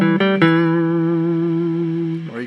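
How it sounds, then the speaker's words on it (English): A sustained electric guitar chord rings out with a wash of reverb, preceded by a couple of quick strums, holding steady before fading at the end. "You can take reverb and add it,"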